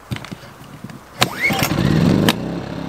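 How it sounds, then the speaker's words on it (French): A portable power generator engine pulled to life with its manual recoil starter: a few faint clicks and rattles, a sharp pull, then the small engine catches and runs steadily, close by. "Maintenant, voyons comment ça marche pour le démarreur manuel."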